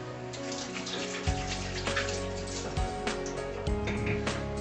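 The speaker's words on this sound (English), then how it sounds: "best thing to do before you start cooking is to wash your hands" Hands are washed under a running kitchen tap, a steady close stream of water with a few splashy rubs and taps against the sink, no talking.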